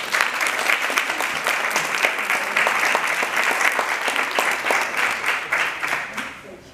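A sustained round of applause from a large audience at a university Trojan Guild gathering, dense steady clapping for several seconds, fairly close and loud, fading slightly at the end.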